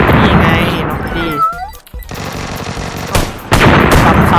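Gunfire in the video game PUBG Lite rattles in rapid machine-gun bursts and loud shots, with a brief quiet gap midway and a player's voice over the top.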